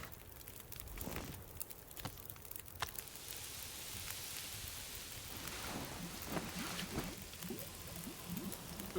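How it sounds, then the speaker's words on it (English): Rain falls during a storm in the survival game The Long Dark, a quiet, steady patter with scattered sharper drops and a few low rumbles rising and fading underneath. "Ooh, that sounds like a storm."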